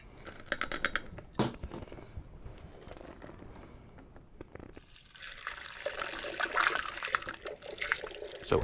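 Juice splashes and trickles through a funnel into a container while making ginger cider, a faint scrape and clatter first, then a steady, louder rushing pour filling the second half.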